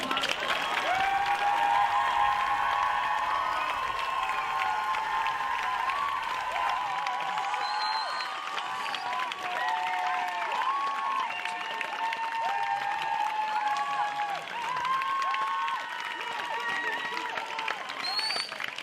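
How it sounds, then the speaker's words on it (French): A theatre audience claps steadily and loudly after a reading, with a dense wash of applause and some cheering lasting throughout, no voices standing out. "On peut applaudir à nouveau Mathéo Groslo s'il vous plaît."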